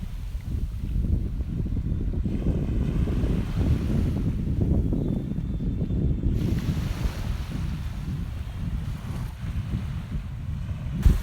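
Sea waves washing onto a white-sand beach at Gili Trawangan, a continuous loud rushing surf mixed with strong wind buffeting the microphone, with no speech.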